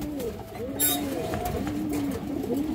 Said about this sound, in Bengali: খরা গলা মাদি কবুতর